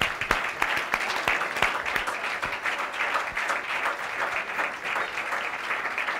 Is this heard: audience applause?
yes